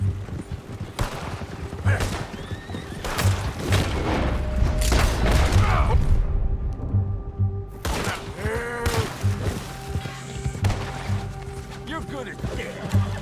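Gunfire and booming shots in Red Dead Redemption 2 during a standoff with United States Army men, loud and repeated, with crashes and clattering hooves mixed under game dialogue.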